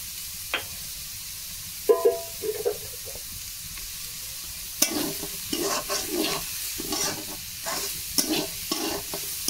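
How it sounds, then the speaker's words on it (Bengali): Chopped onion fries in oil in a pan, a soft steady sizzle punctuated by irregular spatula knocks and scraping stirs that grow busier in the second half, heard close with no talking. "এখন পেঁয়াজ কুচি দিচ্ছি সেজন্য আর একটু লবণ দিয়ে দেবো।"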